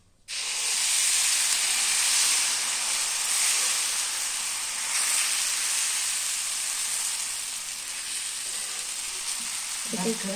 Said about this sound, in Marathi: बघा हे असं तेल लावायचं आणि परत आणखीन आंबोळी सोडायची